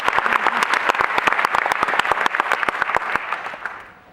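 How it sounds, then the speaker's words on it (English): An audience at the Pan-African Studies Forum claps steadily and fairly loudly for about four seconds before the applause fades out. "That deserves an applause"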